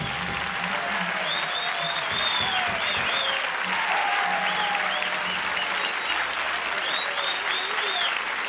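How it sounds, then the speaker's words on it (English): A studio audience at a 1972 television talk show applauds steadily and loudly throughout, a dense, even wash of clapping that never lets up. "It's bad luck to stop applauding on the 13th"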